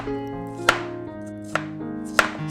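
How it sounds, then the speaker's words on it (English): Three sharp knife chops through cauliflower on a cutting board, spaced about a second apart, close and distinct over a quiet background while preparing a stuffed baked tomato recipe. "for cauliflower, just chop them randomly about the size of onions"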